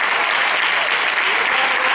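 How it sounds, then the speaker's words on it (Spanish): Dense, loud applause from an audience for a rondalla string music group at a Pilares 2022 event, continuous close clapping throughout. "aplauso grande para nuestra rondalla también"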